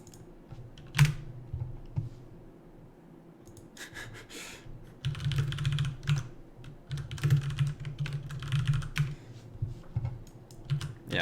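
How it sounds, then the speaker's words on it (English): Fast typing on a loud computer keyboard right beside the microphone, bursts of close, sharp key clicks over low background hum, growing denser and busier after the first few seconds. "Yeah, the keyboard's just gonna be loud."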